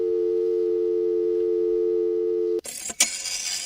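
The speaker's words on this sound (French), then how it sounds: "alors autre son, celui du téléphone et du fax" Old landline telephone and fax machine tones: a steady, loud dial tone holds alone for over two seconds, then cuts off into bursts of harsh, hissing fax handshake noise.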